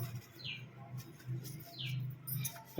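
Kalanka Madras pigeons give low, repeated cooing pulses in a steady rhythm, with faint higher chirps from other birds mixed in nearby.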